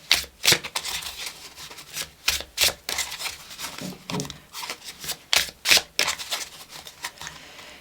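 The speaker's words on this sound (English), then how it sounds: "We're shuffled and ready to go" Oracle cards being shuffled by hand, repeated crisp riffling bursts in an uneven rhythm, close and fairly loud with short pauses between, no talking.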